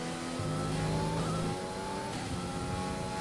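A Formula 1 race car engine in the F1 2020 video game, at the Belgian round, drones steadily at high revs while its pitch climbs and shifts through the gears. The sound is loud, continuous and heard alone.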